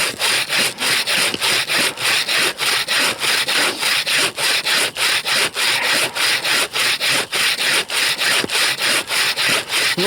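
A chainsaw with a special square-tooth chain cuts through frozen wood in -50 degree taiga cold, a steady loud rasping with even rhythmic strokes repeating about three times a second, no voices.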